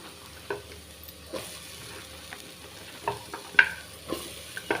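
Ridge gourd is stirred into a masala gravy in a pan, a soft simmering sizzle underneath with several spaced scraping clinks of the spoon against the pan.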